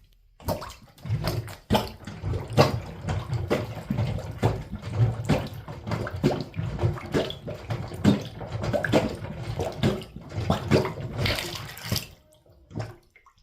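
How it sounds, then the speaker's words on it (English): A plunger works a clogged bathtub drain, giving a steady run of wet, sloshing thrusts and gurgles for about eleven seconds, close and fairly loud, with no talking. "So we're going back to plunge."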